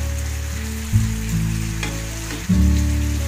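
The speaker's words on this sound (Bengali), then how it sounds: "এবার যখন গ্যাসটা কমিয়ে দেব আরো মশলার সঙ্গে ভাজা ভাজা হবে" Boal catfish pieces frying with spices in a pan on a gas stove, a constant loud close sizzle with a low steady hum underneath and a couple of brief stirring knocks.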